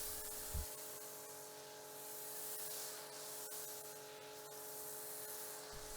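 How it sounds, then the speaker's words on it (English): Snow foam hisses from a sprayer onto the side of a car. The steady, faint spray runs through the whole stretch, with one brief low thump near the start and no speech. "So just watch as I finish spraying this snow foam to the side of the car."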